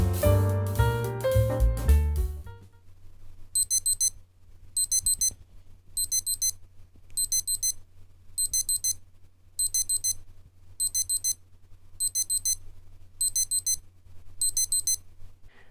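A Casio WS-1600H digital watch sounds its target-time alarm, a short run of high electronic beeps repeating in bursts about once a second after a brief musical intro, clear and close with nothing else heard.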